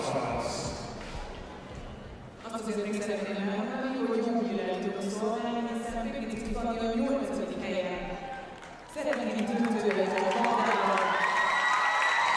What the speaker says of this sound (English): In the arena now, Fanny Pignitsky of Hungary receiving a very warm round of applause.